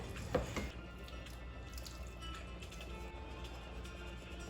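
Grease and juices drained from cooked ground meat for homemade chili, starting with a brief close splash and settling into a steady, soft trickle of liquid.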